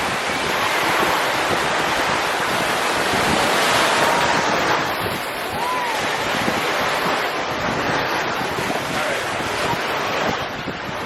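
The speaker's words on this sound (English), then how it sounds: "I want to wait for a decent wave to come in before I shoot this one." Steady ocean surf roars continuously with wind buffeting the microphone, waves washing in without pause.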